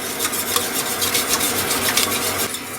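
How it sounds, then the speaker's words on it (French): Continuous scraping and swishing of a spoon stirring a thick mixture in a saucepan, steady and close, with a faint sizzle underneath. A thickening lemon cream for a dessert. "Alors faut remuer tout le temps en fait"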